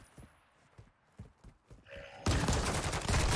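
Call of Duty gunfire: several sharp shots pop in an irregular burst at moderate level, then give way to a dense, loud roar of noise over the final second.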